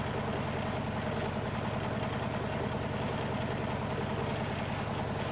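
Blomberg WNF9448 washing machine on a final spin of blankets and dog leads at 600 rpm, giving a steady, loud mechanical hum with a rhythmic low thrum and no voices.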